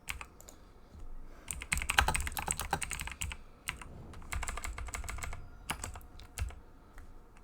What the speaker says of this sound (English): I'm clicking the wrong keyboard commands